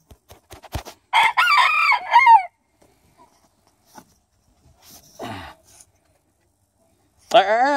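A rooster crows and clucks in loud bursts near the mic, with a long crow early, a shorter call midway and another crow at the end, separated by quiet gaps and faint knocks.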